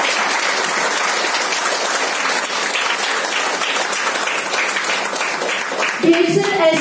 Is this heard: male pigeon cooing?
no